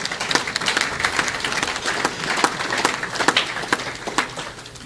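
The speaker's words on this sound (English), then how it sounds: "Give them a round of applause," An audience at the closing and awards ceremony of a youth cricket championship in St. Kitts and Nevis applauds warmly, dense overlapping clapping sustained at an even level for the whole stretch.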